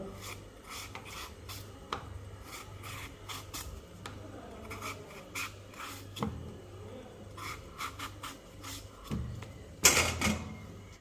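Raw plantain being peeled by hand in a village kitchen, giving soft repeated rasping and scraping strokes with a few sharper knocks near the end, close by with no talking.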